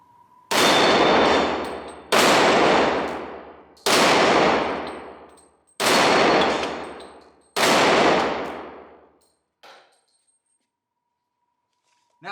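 Five loud, evenly spaced shots from a Sig Sauer 1911 pistol chambered in .357 SIG, each a sharp crack with a ringing tail fired at steel flapping targets outdoors, then a faint metallic clink and quiet.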